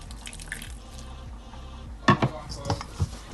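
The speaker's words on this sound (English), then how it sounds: "so I'm going in with some more water" Water poured into flour while kneading soft roti dough, giving a quiet liquid trickle followed by a few sharp splashes and wet knocks near the end, with no talking.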